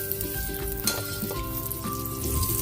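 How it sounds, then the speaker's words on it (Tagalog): Butter sizzling in a pan at the start of sautéing, a close, steady crackling hiss with faint clinks of a utensil, no talking. "Magigisa na tayo. Lagyan na natin ng butter."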